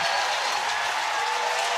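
A crowd in a tennis venue at the Veolia North Carolina Open applauds steadily after a cross-court winner, a dense, even wash of clapping throughout the short clip.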